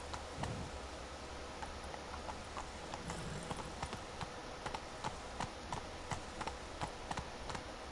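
Roach the horse trots along in The Witcher 3, hooves clip-clopping in a steady, even rhythm of crisp, moderately close beats over a faint game ambience.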